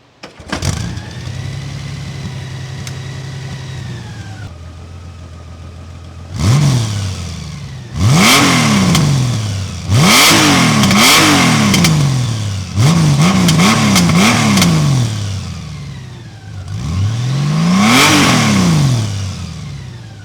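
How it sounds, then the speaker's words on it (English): Honda Goldwing Tour DCT touring motorcycle starting up and idling, then a series of sharp throttle blips and revs from the rear exhaust, each rising and falling, loud and close with no talking. "Let's have a listen to the exhaust system on the back of this bad boy"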